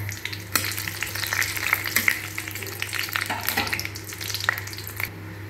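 Whole spices and bay leaves sizzle and crackle in hot oil for vegetarian cooking, a steady close frying hiss with scattered pops and a few stirring scrapes, alone with no talk.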